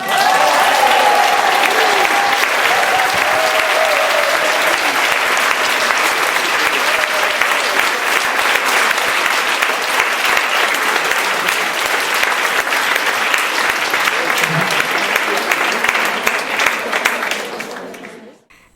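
Sustained applause from an audience at a recorded podcast event, a loud, dense, steady clatter of many hands that keeps going for a long stretch before fading out quickly at the end.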